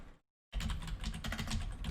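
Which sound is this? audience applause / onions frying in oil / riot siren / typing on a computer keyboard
typing on a computer keyboard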